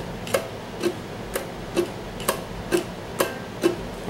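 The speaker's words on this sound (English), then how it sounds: "All it is an up and down strum that follows a mechanical kind of feel." A ukulele is played in an even, mechanical up-and-down straight strum with damped strokes, sounding like a ticking clock: short percussive chops at a steady beat, close and alone with no talking.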